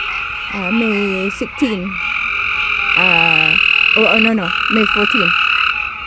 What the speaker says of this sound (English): As you know, there are so many frogs.